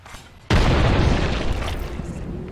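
A grenade goes off in the Apex Legends battle royale game, a sudden loud, close boom that breaks a quiet moment and leaves a long roaring rumble fading slowly, with no voices.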